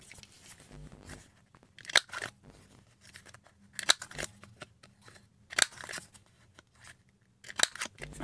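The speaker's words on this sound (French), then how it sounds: "J'arrondis mes angles avec la toute petite." A small corner-rounding punch clips paper corners for Christmas scrapbook table decorations, giving sharp, crisp snips in separated bursts every couple of seconds against quiet rustling.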